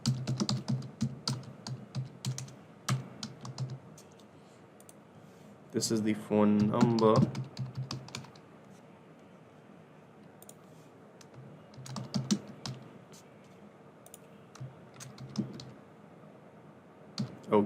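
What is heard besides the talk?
typing on a computer keyboard to fill a form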